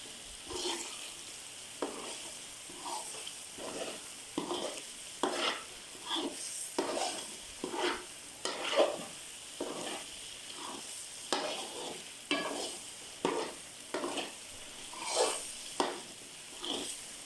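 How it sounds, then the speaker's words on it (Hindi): A spoon scrapes and stirs semolina halwa in a pan in a steady rhythm of strokes, roughly one per second, over a soft continuous sizzle, fairly quiet and close. "मुसलसल चमचा हिलाते रहें ताकि नीचे न लगे हमारी सूजी।"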